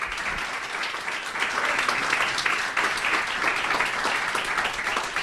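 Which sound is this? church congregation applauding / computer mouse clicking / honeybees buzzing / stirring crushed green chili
church congregation applauding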